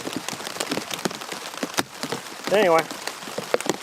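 Heavy rain drums on a tent during an overnight camp in wind and rain, a busy irregular patter of drops close by, while someone speaks briefly over it.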